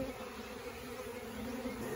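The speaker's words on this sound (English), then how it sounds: "These look like a bunch of forager bees" Orphaned forager honeybees left behind after their queen was pulled buzz in a steady, continuous drone, close and fairly quiet, with no talking.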